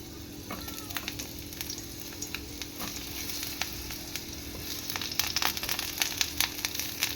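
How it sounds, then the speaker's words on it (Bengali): Eggplant pieces fry in hot oil in a wok, a steady close sizzle broken by sharp spitting crackles and pops that grow busier toward the end, with no voices. "তেল গরম হয়ে গেছে, এবার বেগুনগুলো সব বসিয়ে দেবো"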